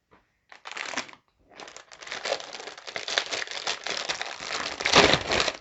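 Plastic packaging on a Warhammer Age of Sigmar Stormbringer magazine issue is ripped open and crinkled, a close, loud run of tearing and crumpling after a brief pause, with no talk.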